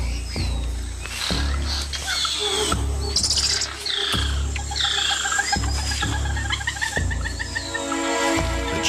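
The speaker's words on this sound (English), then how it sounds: "The squirrel monkey spots a harpy eagle and sounds the alarm, alerting everything in earshot." Squirrel monkey alarm calls ring out through the Amazon rainforest canopy as sharp, repeated chirps and twitters. They sit among other bird-like calls over a steady low background hum of forest sound.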